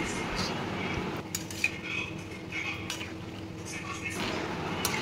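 Spoon scraping and clinking against a pan while semolina (suji) is stirred, steady scraping with a few brighter metallic clinks, close by, with a faint voice in the background.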